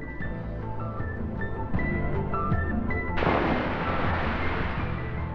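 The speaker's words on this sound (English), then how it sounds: "one system in particular combines the latest in gun, ammunition, and fire control technologies into what is undoubtedly the world's most sophisticated and effective close-in weapon system" Goalkeeper close-in weapon system, a naval gun defending ships, firing: heavy booming blasts over a rumbling background, then a sudden loud, sustained roaring burst of gunfire that continues to the end.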